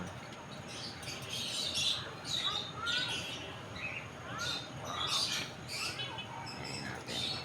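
Cockatiels chirp in bursts of high, thin calls against a steady background hum, the calls fairly soft and spread irregularly through the stretch.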